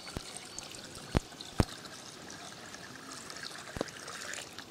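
Water trickles and splashes steadily into a pot of crab biryani after the oil separates, with a few sharp clinks of metal standing out over the flow.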